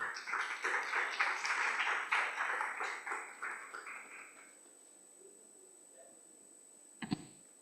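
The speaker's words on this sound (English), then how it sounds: "a round of applause for this fine panel" A summit audience claps through a round of applause for a panel at a business awards event, dense and steady for about four seconds before thinning out and fading into quiet, with a single sharp knock near the end.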